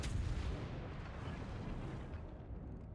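Naval gunfire from the Prince Eugen firing AP shells in World of Warships Legends, a faint, muffled, rumbling boom that trails off slowly.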